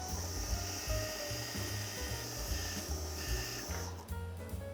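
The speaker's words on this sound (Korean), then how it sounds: "이제 조금 더 긴 거를 꼽아 가지고 드릴이 이렇게 더 길게 나올 수 있게 또 구멍을 내기 시작하는 거예요" A dental drill bores a hole through upper jaw bone during a sinus lift, giving off a thin, steady high whine over a low grinding hum, quiet and continuous.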